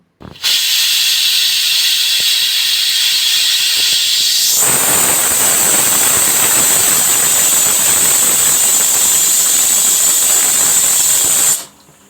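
A new pressure cooker cooking mutton curry lets out a long, loud steam whistle: a shrill tone over hissing that grows rougher and stronger midway, then cuts off abruptly near the end, with no talking.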